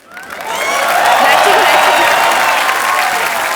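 A studio audience at a TV comedy talk show breaks into loud, sustained applause to welcome a guest on stage, the clapping swelling quickly and holding steady, with a voice heard faintly beneath it.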